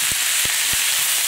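Spiced lamb or chicken pieces frying in a pan make a constant loud, close hiss, with three soft low thumps spaced through the short stretch.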